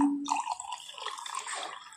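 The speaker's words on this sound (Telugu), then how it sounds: "వాటర్ పోసేసుకొని" Water trickles and splashes briefly into a container, a short close-up pour with bubbling, uneven dripping.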